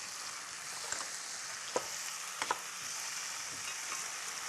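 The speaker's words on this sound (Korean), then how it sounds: "자, 이거 볶는 동안에" Ingredients are stir-fried in a pan, giving a continuous hissing sizzle broken by a few sharp scrapes and taps of a utensil against the pan, close and alone without voices.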